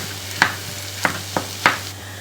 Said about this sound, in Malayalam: എന്നിട്ട് ഇത് നന്നായിട്ട് വഴറ്റിയിട്ട് നല്ല ഉടച്ചെടുക്കണം